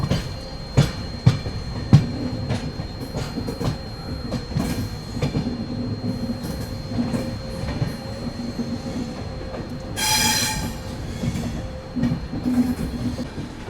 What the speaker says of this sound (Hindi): And to and WAP7 electric locomotive के साथ ही चलती है ये हमसफर एक्सप्रेस।